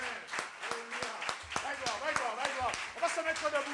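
A church congregation claps during a live worship service, fairly faint, with distinct individual claps that quicken into loose rhythmic clapping while voices carry on underneath.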